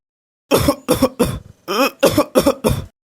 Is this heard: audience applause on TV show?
no